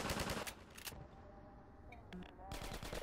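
Turret gunfire in Half-Life 2 Episode 1 comes as rapid bursts of automatic shots, one at the start and another at the end, with a quieter stretch of clatter between.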